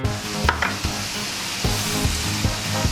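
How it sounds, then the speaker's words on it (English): Pork stir-fry for Thai basil sizzles hard in a hot pan as fish sauce and oyster sauce go in, with steady frying hiss and rhythmic scrapes and clanks of a utensil stirring the meat. "So now we're ready to put in the seasoning, fish sauce and oyster sauce"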